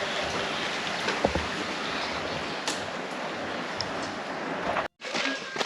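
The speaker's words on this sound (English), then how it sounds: "The rain sounds amazing on the tin roof." Steady rain drums on a tin cabin roof at night, a dense, even patter filling the space with a few brief louder taps and a short gap near the end.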